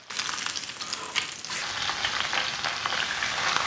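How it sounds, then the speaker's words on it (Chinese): Marinated yellow croaker sizzling as it pan-fries in a little hot oil in a flat pan, a steady close crackling hiss with small spatters throughout and no talking. "平底锅内下入少许的油，油温烧热过后下入腌制好的黄鱼煎一下"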